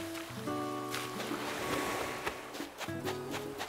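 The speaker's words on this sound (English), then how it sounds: "Nope, that's just the ocean." Ocean surf washes steadily on an Animal Crossing: New Horizons island, soft and continuous beneath game music notes, with no voices.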